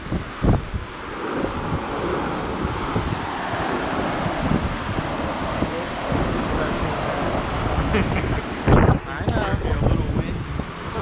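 Wind and ocean waves heard from the deck of the cruise ship Anthem of the Seas during a transatlantic crossing, a continuous rushing roar with gusty microphone buffeting and brief louder bursts, with faint voices underneath.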